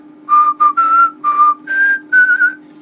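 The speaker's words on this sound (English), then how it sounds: "If you're whistling on the out-breath, you've got the air noise" A clear, loud whistled tune of six short phrases, whistled on the out-breath, with a faint breathy airiness under the pitched notes and a low steady hum behind.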